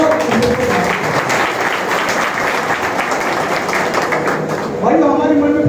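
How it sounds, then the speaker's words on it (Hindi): Audience applause at a community conference gathering, a steady wash of clapping throughout, with voices and a few tonal sounds emerging near the end. "जोरदार तालियां बजाओ"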